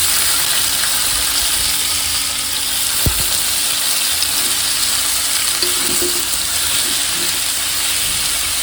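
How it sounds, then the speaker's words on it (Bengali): Leafy greens fry in a pan with a loud, constant hissing sizzle, close up, with one sharp knock and a few soft scrapes of stirring partway through, and no talk. "তো এখানে আমি শাকটা ভাজি করে নিচ্ছি।"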